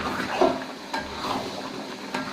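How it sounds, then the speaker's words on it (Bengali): Tamarind pickle being stirred gently in a pan, with soft scraping and wet, sticky movements plus a couple of light spoon taps, heard close and fairly quiet. "এটিকে সুন্দরভাবে আলতো আলতো করে নাড়তে থাকতে হবে।"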